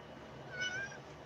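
A house cat gives a single short, fairly faint meow indoors, rising and falling over about half a second against a quiet room hum.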